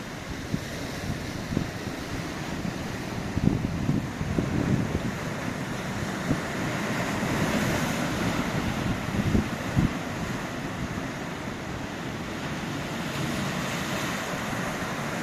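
Sea waves crash and wash against rocks along a coastline, a steady loud roar of surf with gusting wind buffeting the microphone and no voices.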